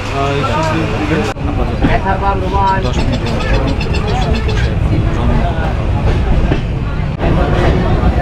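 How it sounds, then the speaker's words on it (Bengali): The Rupsha Express pulls away from Phulbari station on a sunny day, a steady loud rumble and rattle of the train running throughout, with people talking and station babble over it. "রূপসা এক্সপ্রেস ট্রেনটি এখন ছেড়ে যাচ্ছে ফুলবাড়ি স্টেশন থেকে"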